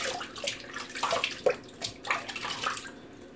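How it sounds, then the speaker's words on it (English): A razor is rinsed under running water between shaving passes, giving close splashing and trickling in irregular bursts that fade out near the end. "Just rinsing off for my second pass."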